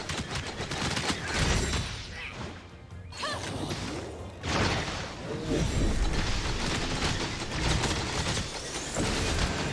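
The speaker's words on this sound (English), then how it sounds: "Well, we just keep shooting her." Video-game gunfire in Tower of Fantasy as an enemy is shot repeatedly: a dense, crashing barrage of impacts and mechanical clatter that surges in waves, with a few brief dips between bursts.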